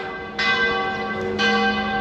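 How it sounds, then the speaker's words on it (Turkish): A church bell in Sarajevo rings out twice in resonant, sustained strokes at evening worship time, the tones ringing on and overlapping, heard clearly with no talking. "Çanlar çalıyor."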